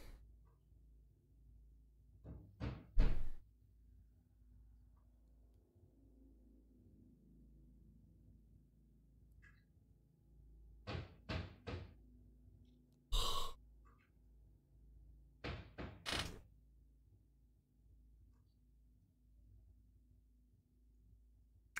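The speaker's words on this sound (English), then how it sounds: "What's that knocking?" Knocking on a door in a quiet, eerie setting: short, sharp raps come in several separate clusters of two to four blows, spaced by long stretches of near silence.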